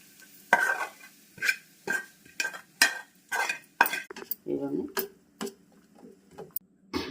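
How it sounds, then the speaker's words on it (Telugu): A spoon stirs a cooled fried tempering mixture into yogurt in a bowl, giving a rhythmic series of distinct clinks and scrapes, about a dozen in seven seconds, close and clear, with a brief soft wet squelch midway. "ఇప్పుడు ఈ మిశ్రమాన్ని నేను పెరుగులోకి మిక్స్ చేసేస్తున్నాను"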